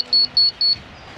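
A grade rod laser receiver on an excavator job beeps three times in a steady rhythm, each sharp high-pitched beep lasting about a tenth of a second, loud and close, then stops, leaving a faint background hum.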